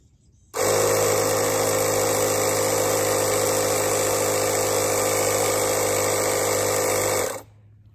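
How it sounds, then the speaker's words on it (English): Electric air pump inflating a bicycle tire runs as a steady, loud droning hum for about seven seconds, starting and stopping abruptly, close by with no talk. "Now I can start to put a little bit more air in the tire."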